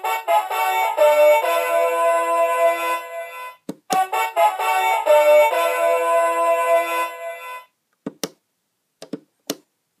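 A Legacy Mighty Morphin Power Rangers die-cast Dragon Dagger toy plays its second theme as a loud electronic tune that pauses briefly, resumes, then stops, followed by several sharp taps and knocks from handling.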